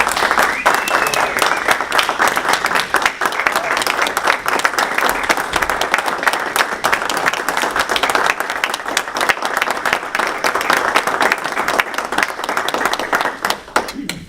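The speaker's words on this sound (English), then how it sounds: "Let's give him a round of applause." Steady applause from an audience at a Rotary Club meeting fills the room for about fourteen seconds, dense and loud with many hands clapping at once and a few voices mixed in.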